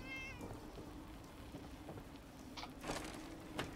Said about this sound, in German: Hallo Kätzchen.